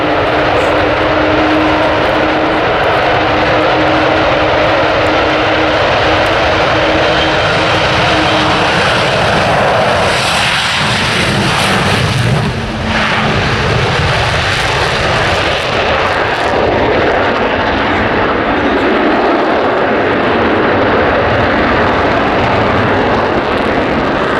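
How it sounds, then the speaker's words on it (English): Avro Vulcan XH558 jet bomber on its takeoff roll at RAF Waddington, a loud, continuous broadband engine roar filling the air throughout, swelling slightly midway with no voices. "starting its takeoff roll is the Avro Vulcan XH558"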